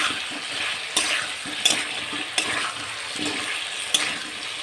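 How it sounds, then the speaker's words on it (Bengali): Magur catfish curry being sautéed in oil as the oil separates, a constant close sizzle broken by regular spatula scrapes and taps against the pan. "আবার এটা আমি কষতে থাকবো দেখো বন্ধুরা এই যে তেলটা ছাড়ছে আস্তে আস্তে"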